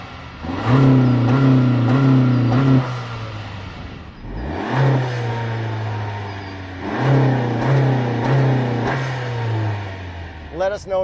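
A Honda Civic or Accord engine revs, heard from outside the car. It climbs and holds in a droning tone, drops away, then rises again in two loud rev pulls, with some talk over it.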